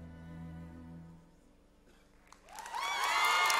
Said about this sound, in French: On les applaudit bien fort, Japan Expo!